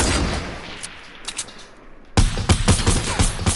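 Video game gunfire rattles off in quick bursts of close, loud shots, first a softer scattered volley and then a sharper rapid string of cracks.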